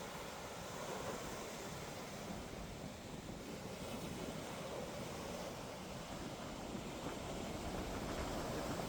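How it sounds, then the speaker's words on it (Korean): Strong ocean waves roll onto Miami Beach in a continuous, broad roar of surf, with wind buffeting the microphone throughout and no voices. "파도가 세서"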